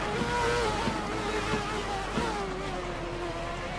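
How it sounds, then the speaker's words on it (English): Onboard engine of a Formula race car in a video game, a high whining tone rising and falling through gear changes, heard moderately loud and continuous with faint commentary underneath. "You get the nice onboard sound that these cars have."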